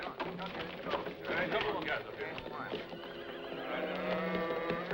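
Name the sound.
horses neighing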